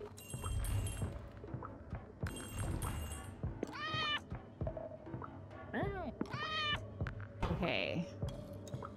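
A cartoon cat in the puzzle adventure video game Arranger meows several times, high and close, between other game sound effects and chimes, while a person talks over part of it.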